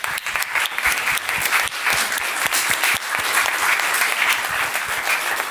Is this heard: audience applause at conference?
yes